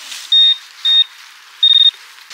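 Metal detector giving a broken signal while searching a wartime site, three separate electronic beeps, the last one longer and stuttering, clear and close over a quiet background.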